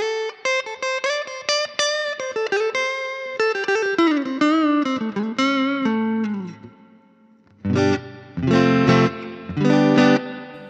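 Electric guitar on a Hardluck Kings Bombshell, played clean on the neck pickup through an amp: chords and single-note runs ring out near and clear, a brief pause, then loud strummed chords return, with no talking.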